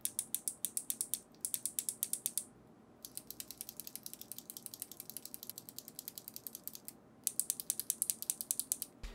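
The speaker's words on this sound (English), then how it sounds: "you can hear that the Kale Box Jades are actually much cleaner in producing a clicky sound" Kailh Box Jade clicky keyboard switches are typed in quick bursts, crisp sharp clicks in rapid rhythmic runs with brief pauses between sets, close and alone without talk.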